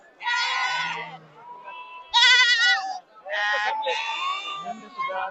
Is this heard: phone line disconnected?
no